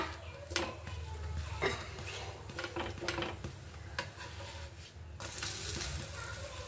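Fenugreek leaves and onion fry in oil in a pan for methi paratha, a soft steady sizzle under repeated clinks and scrapes of a spatula stirring against metal.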